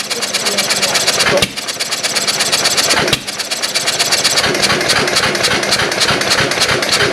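An antique stationary engine driving a belt and pulley with 100-pound flywheels, running with a fast steady mechanical chatter and two brief dips in rhythm, loud and close.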